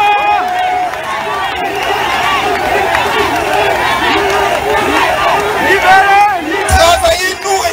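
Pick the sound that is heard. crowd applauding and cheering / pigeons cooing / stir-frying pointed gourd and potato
crowd applauding and cheering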